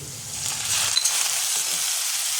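A ground paste of ginger, garlic, whole dried red chili and cumin fries in a pan for a Bengali chicken stomach dish, making a close, steady broadband sizzle with a low hum fading after the first second.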